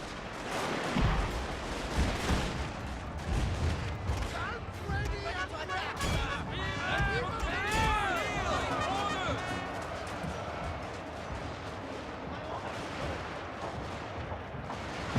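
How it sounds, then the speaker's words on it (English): Artillery bombardment rolls through a battle in Shogun 2: Fall of the Samurai, a Japanese war strategy game, with repeated booming gunfire over a busy, noisy battlefield. A person talks over the barrage throughout. "Oh, we got another bombardment."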